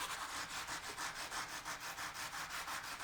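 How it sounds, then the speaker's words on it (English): A sanding block rubs back and forth over a surface in a quick, even rhythm, soft and close, with no talking. "this is just a little sanding block, and just lightly go over this"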